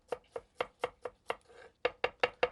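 Vegetables being finely diced into brunoise with a knife on a cutting board, eleven crisp close chops in a quick steady rhythm with a brief rustling scrape between them, no talking.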